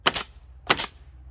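Pneumatic nail gun driving nails into roof plywood: two sharp double-clack bursts about half a second apart, close and fairly loud with no talk.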